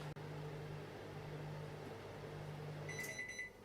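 A microwave oven cooking moussaka gives a steady low mechanical hum with a faint fan whir, and near the end a few short high beeps sound as the cycle finishes.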